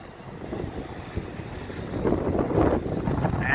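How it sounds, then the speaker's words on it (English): Gusty wind buffets the microphone in downtown Detroit in winter, a steady low rumble that swells louder in the second half, with no voices. "It's a windy one."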